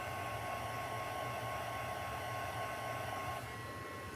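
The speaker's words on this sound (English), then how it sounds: "the dryer or the heat tool." A heat tool or dryer drying stencil ink blows a steady, fairly quiet airy whir at a constant pitch throughout, with a slight change near the end and no one speaking.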